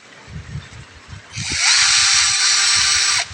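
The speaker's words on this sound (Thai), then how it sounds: "เจาะมันเลยเพื่อนเอ้ย" A small electric drill bores a hole in a circuit board for a diode, starting with a rising whine and holding a loud, high steady buzz for under two seconds before stopping, with low background rumble before it.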